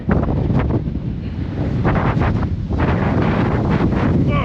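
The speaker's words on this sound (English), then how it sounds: "it's extremely windy here" Strong wind on a Welsh hiking trail buffets the microphone in a constant, loud roar, with gusts swelling and easing throughout.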